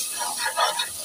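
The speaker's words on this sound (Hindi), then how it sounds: "अच्छी तरह भुन लेने आलू" Potatoes and peas fry in a pan with a steady, close hiss of sizzling that swells and eases slightly.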